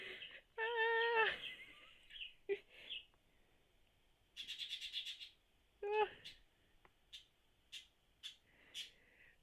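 A bird calls with several short chirps and warbling tones, some bright and buzzy, spaced irregularly and mixed with a person talking nearby.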